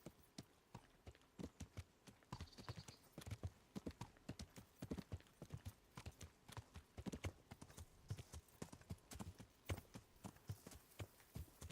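Horse hooves clip-clop in a steady trotting rhythm in the video game Kingdom Come, fairly faint and clear with no talk over them.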